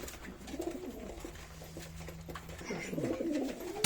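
Tumbler pigeons kept for flying coo steadily in a coop, several birds overlapping in soft, rolling calls that continue throughout at close range, with no speech.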